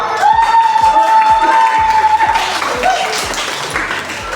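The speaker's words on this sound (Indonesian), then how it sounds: "Boleh tepuk tangan untuk kita semua." Children on a field trip to the Kemayoran fire station clap and cheer together in a loud, busy burst, while a steady tone and regular low thumps run underneath.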